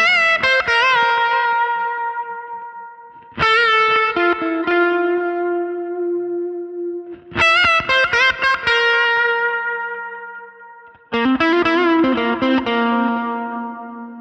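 Overdriven electric guitar lead melody played through a Line 6 Helix, drenched in big reverb, with loud sustained notes in four phrases separated by brief gaps, ringing tails trailing off, no voices.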